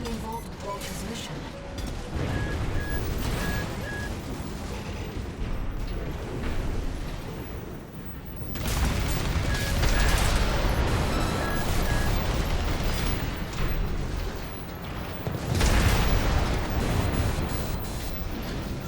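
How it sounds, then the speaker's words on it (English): A shoulder cannon fires in the mech combat game Armored Core VI, with two heavy, roaring blasts over a dense, rumbling battle soundscape of machinery and effects, while a voice talks intermittently. "Shoulder cannon's actually pretty cool."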